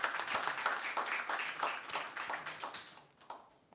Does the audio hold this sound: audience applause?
yes